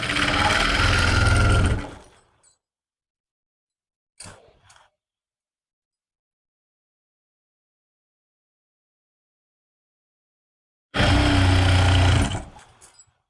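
A sewing machine stitches the centre seam of a lined suit in two short close bursts at the start and end, with a faint brief handling sound between them and long silence around, no talk.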